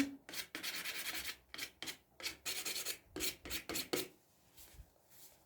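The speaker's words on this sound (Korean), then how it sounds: "요 손잡이도 한번 고운 사포로 살짝 다듬어 줄게요" Fine sandpaper rubbing on an old wooden dressing table handle in quick back-and-forth strokes, a steady rasping scratch with brief pauses between bursts, close and fairly quiet.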